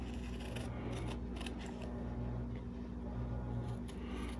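Scissors snip through a paper template for ukulele frets, giving a few quiet, irregular crisp cuts over a low steady background hum, with no talking.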